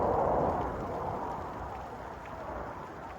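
Heavy rain pours down during a storm in Vang Vieng, a steady dense hiss of water that swells slightly at the start and then holds constant, with no voices over it.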